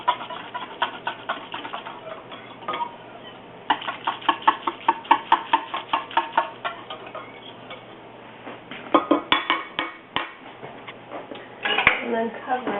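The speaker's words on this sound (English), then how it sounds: "I'll just put my starter yogurt in, and then just kind of whisk it in." A whisk stirs starter yogurt into cooled milk in a bowl, making rapid rhythmic clinks and taps in several bursts, close and moderately loud, with short pauses between.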